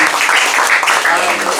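Brief, loud applause from an audience at a Catholic youth gathering, steady close-up clapping with voices mixed in.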